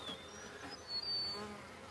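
Mountain Grey Caucasian honeybees at their hive during an inspection, a soft steady buzzing drone with individual bees passing close by.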